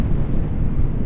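Steady, low wind buffets the microphone outdoors on a golf course, a continuous rumbling whoosh with no other sounds over it.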